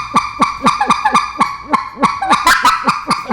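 Goose call blown in short, rhythmic clucks, about a dozen sharp honking notes in quick succession, loud and close with no talk over them.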